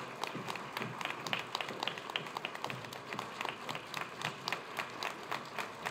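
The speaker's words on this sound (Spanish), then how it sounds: "Un fuerte aplauso para todos ellos," Audience applause at a public event in a hall, a steady wash of many hands clapping throughout, fairly loud and close, with no talk over it.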